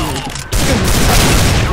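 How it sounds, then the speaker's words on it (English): A grenade blast in a first-person shooter game, a loud low boom erupting after a brief moment of game noise and rolling on as dense rumbling debris. "I'm throwing a grenade."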